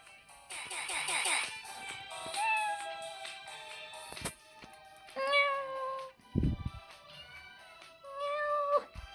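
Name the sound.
voice imitating cat meow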